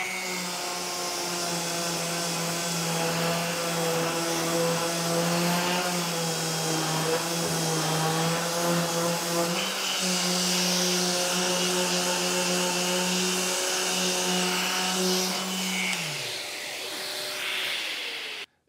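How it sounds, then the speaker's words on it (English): Festool DTS 400 triangle sander working over wooden door casing, a steady, loud buzzing drone with a strong hum that runs almost unbroken for several seconds before winding down and cutting out. "these little triangle sanders work great. I use this one from Festool, the DTS 400, for casing all the time"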